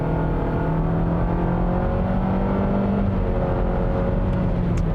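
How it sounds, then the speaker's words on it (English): A 2021 Nissan Rogue with a CVT, set to sport mode, accelerates hard. Its engine gives a steady, droning whir inside the cabin, moderately loud and even throughout, with no speech. "let me switch over the drive mode to sport setting here. We'll put our foot down."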